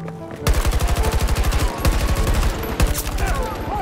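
Sustained automatic gunfire in Battlefield 2042, a rapid steady stream of close, loud shots with a brief pause and a second burst, with a faint voice underneath.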